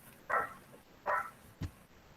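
A dog barks nearby in three sharp, separate barks spread over about two seconds, standing out loudly against a quiet indoor background with no talking.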